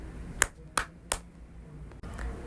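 Three sharp claps or snaps in response to a Filipino word that starts with A, evenly spaced and standing alone over a quiet room background.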